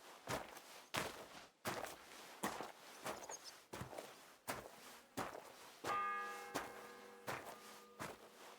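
A church bell tolls the seventh bell in Kingdom Come Deliverance II, a single clear ringing strike with a long humming decay arriving late, preceded by a steady run of footsteps on the ground.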